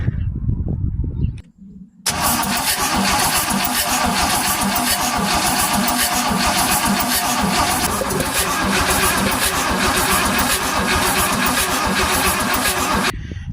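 A 1963 Cadillac engine cranks over with a brief rough burst, a short pause, then a steady loud, dense mechanical churning that runs on evenly for over ten seconds, close up.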